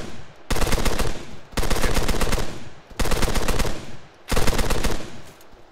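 Sustained machine gun cover fire in a video game firefight, four long automatic bursts of roughly a second each with short gaps between, loud and close.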